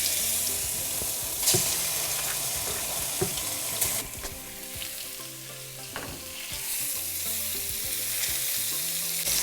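Salmon searing in hot avocado oil in a pan over medium heat, a loud steady sizzle and crackle up close with a few sharp spits, no talking.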